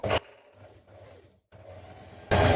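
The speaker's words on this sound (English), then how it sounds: "We're going to stitch around this neckline with an 8mm seam in." Sewing machine stitching around the neckline of a vintage spring dress with an 8mm seam: a soft, close motor hum in two short runs separated by a brief pause, with louder bursts at either end.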